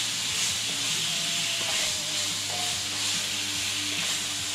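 Blackened chicken sizzling in a pan for Cajun alfredo, a loud, dense, continuous hiss of frying with a steady bright crackle and no breaks.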